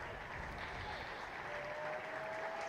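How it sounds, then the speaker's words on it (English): A Vitality Blast T20 cricket crowd at the Yorkshire Vikings v Notts Outlaws match applauds the incoming batsman, with steady, dense clapping from many hands at a distance throughout. "And the applause go up from the crowd."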